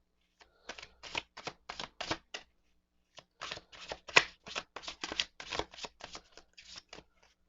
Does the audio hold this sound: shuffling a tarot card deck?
yes